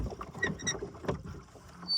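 Rowing boat with oars on a reservoir, close knocking and splashing of oar strokes in the water with light wind noise over the microphone, no talking.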